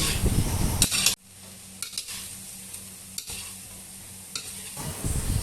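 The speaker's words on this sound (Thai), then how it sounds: "ใส่กระเทียมที่เตรียมไว้ลงไปผัดกับหมู ทหอมแดงลงไปผัดให้เข้ากัน" Pork belly stir-fried with garlic and shallots in a pan for a black soy sauce dish: a loud sizzle that drops away to a quieter hiss with intermittent spatula scrapes and clanks, then swells again, with no speech.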